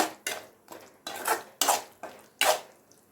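A spoon scrapes and knocks around a pan of pepper prawn gravy in repeated stirring strokes, about seven rhythmic metallic swishes close by.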